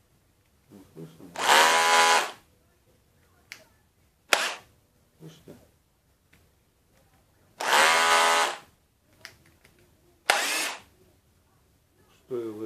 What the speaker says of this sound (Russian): при переключении режимов, вот с этого режима, после удара на сверление, вот такой стук